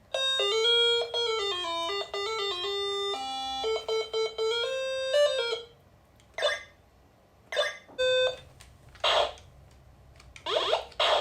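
A bright electronic chime tune plays a quick melody of beeping notes, then stops; afterward come scattered short bursts of noise, like brief laughs or coughs.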